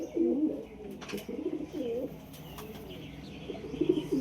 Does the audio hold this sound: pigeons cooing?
yes